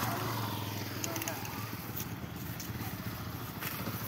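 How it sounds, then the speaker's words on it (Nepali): A motorbike ridden with both hands off the handlebars gives a steady low engine drone under broad road and wind noise throughout. "दुइटै हात छोडेर बाइक कुदाउँदैछ।"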